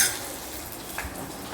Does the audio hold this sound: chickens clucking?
no